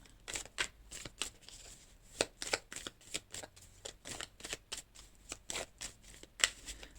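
A deck of tarot cards is shuffled close by in quick repeated riffles and flicks, crisp bursts following one another across the stretch, with no voice.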